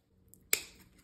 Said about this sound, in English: Across any bad ones, trim off.